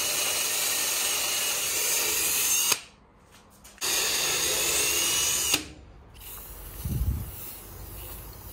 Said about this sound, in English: I'm just gonna drill some holes so I can attach